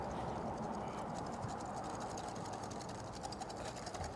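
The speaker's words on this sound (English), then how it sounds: "Whisk." Steady, dense clatter of a whisk beating a sauce of ground spices and freshly minced garlic, served with a New York strip steak. The rhythmic scraping is close and fairly loud and runs without a break.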